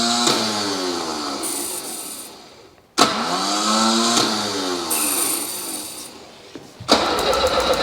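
A Volvo P1800 that sat parked for 25 years is cranked by its starter in two long grinding attempts with a short pause between, close and loud, followed by a brief catch and sputter at the end.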